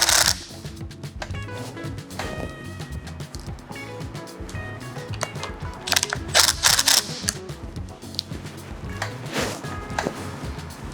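Ratcheting, clicking tool noise while an SG400 bar end mirror is tightened onto a motorcycle handlebar, in irregular close bursts with little talk.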